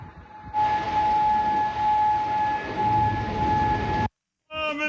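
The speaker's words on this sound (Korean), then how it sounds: "쿠웨이트 시티에서 사이렌이 울려 퍼집니다." A loud, steady wailing air-raid siren in Kuwait City with a sustained tone holds for several seconds, then cuts off abruptly.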